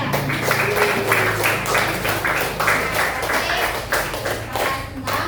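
Classroom clapping from pupils in an Islamic religious education lesson, a dense run of overlapping claps with tonal hum and murmuring beneath, steady and fairly loud throughout.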